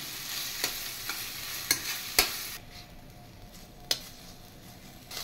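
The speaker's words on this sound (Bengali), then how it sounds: "এবার ম্যারিনেট করে রাখা চিকেনগুলো একটু ফ্রাই করে নেবে।" Marinated chicken frying in butter in a pan, with a steady close sizzle, scattered spatula scrapes and stirring clicks, and the sizzle easing after a few seconds.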